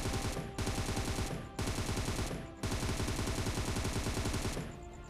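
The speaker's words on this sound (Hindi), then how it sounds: "देखो तो गाइज देख सकते हो यहाँ पर मैं फायर कर रहा हूँ" Automatic rifle fire in PUBG Mobile, loud continuous bursts in three long strings separated by brief pauses, close and dense, with no talk.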